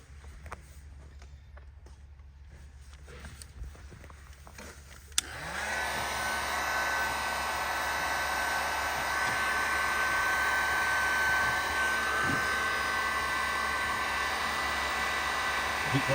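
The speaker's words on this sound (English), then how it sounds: "Hand me that heat gun." A heat gun roars on steadily beside a deep, tight dent in a damaged tow truck body, kicking in abruptly after a few quiet seconds and then holding a loud, even airflow hiss.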